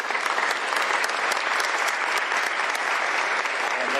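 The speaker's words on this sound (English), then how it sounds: "Round of applause for everybody" Steady, dense clapping from a crowd at a bill signing with Governor Bob Ferguson, loud and continuous for several seconds with no break.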